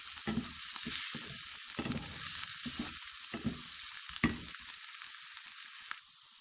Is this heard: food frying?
yes